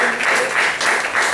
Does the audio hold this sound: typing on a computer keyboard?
no